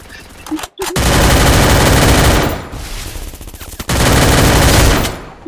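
Sustained automatic gunfire in the Free Fire shooter game, with loud, dense bursts lasting over a second each, a brief gap between them and a sharp shot at the start.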